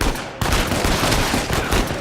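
Continuous gunfire from a shootout in the video game Uncharted 4, dense and loud throughout, with a sharp onset after a brief lull and rapid overlapping shots filling the whole stretch.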